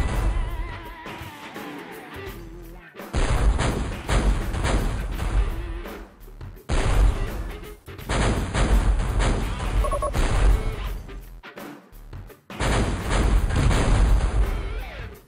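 Turrets in the Metal Fatigue strategy game fire at enemy units on a snowy plateau, sending out dense, loud volleys of booming, artillery-like shots in long sustained bursts broken by brief pauses.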